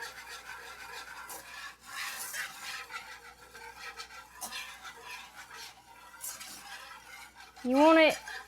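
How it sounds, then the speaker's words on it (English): A spoon scrapes and rasps through flour in a pan on low-medium heat while it browns for Southern tomato gravy, a steady close stirring and rubbing that ends with a brief high squeak. "We're just gonna break up all our flour and get that mixed in real good and let it brown."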